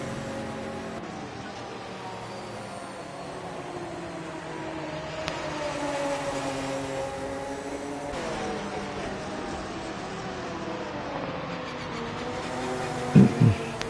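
A Lamborghini GT race car in the final round of a GT championship at Sao Paulo drones steadily past at high revs, a continuous engine roar with shifting pitch, fairly distant, with a couple of brief louder knocks near the end.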